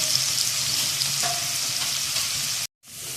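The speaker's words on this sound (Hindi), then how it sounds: "अब हम इसके अंदर एक चॉप की हुई प्याज ऐड करेंगे और इसको हल्का सा गोल्डन कर लेंगे।" Chopped onion fries in a hot pan, a steady close sizzle and crackle with a faint stirring scrape, briefly cutting out near the end.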